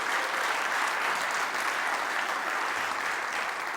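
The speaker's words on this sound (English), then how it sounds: "give a round of applause to those two guys" Steady, dense applause fills a hall at a Canadian Motorsport Hall of Fame induction ceremony, honouring the event's announcer and script writer; many hands clap evenly and continuously at a strong level, with no voices on top.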